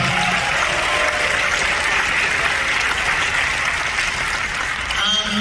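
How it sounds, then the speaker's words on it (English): Loud, dense applause for a guest at an anime convention panel, continuous crowd clapping that stays close and even throughout, with faint voices mixed in. "Give him another round of applause"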